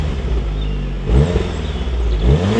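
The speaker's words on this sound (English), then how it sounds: "here's a little clip of what a stock 2015 VW Golf R sounds like" A stock 2015 VW Golf R engine idles with a steady low rumble, then revs up sharply around the midpoint and again near the end, close and loud with no talking.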